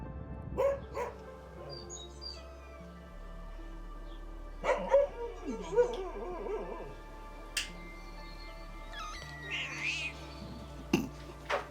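Several dogs at a house in Kherson, bursts of barking and yelping scattered across a quiet background, some near and some farther off, with brief gaps between calls and no talking over them.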